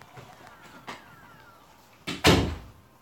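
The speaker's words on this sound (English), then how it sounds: "my grandma just closed the door" A door being closed nearby, a soft bump followed by a louder, resonant thud as it shuts, with quieter room sounds before it.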